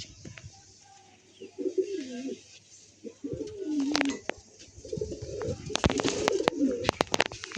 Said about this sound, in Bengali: পায়রা ছেড়ে শখ করাচ্ছি,